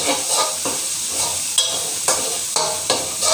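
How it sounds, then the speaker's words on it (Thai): Garlic, coriander root and pepper paste stir-frying in a pan for kapi rice, with steady sizzling and several spatula scrapes repeating about every half second, close and clear, no voices. "ผัดให้สามเกลือหอมเลยนะคะ"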